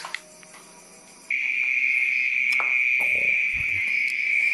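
Night insects call from close by in a single steady, loud, high-pitched drone that starts abruptly after a quieter opening and holds unbroken, with a few faint knocks and rustles underneath.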